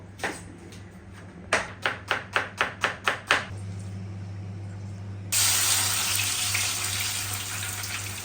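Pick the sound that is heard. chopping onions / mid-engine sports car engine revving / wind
chopping onions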